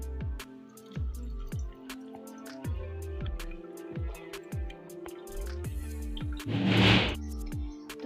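Phalsa sharbat running through a strainer, heard as slow, evenly spaced single drips with hollow descending plops into liquid and a brief wet gush near the end.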